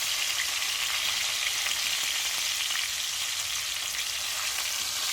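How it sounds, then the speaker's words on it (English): Beef short ribs sear in a hot pot, giving off a loud, steady, dense sizzle that holds evenly for the whole stretch with no voices over it. "we want to get a nice brown sear on all sides"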